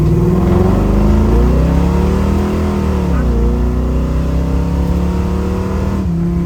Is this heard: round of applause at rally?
no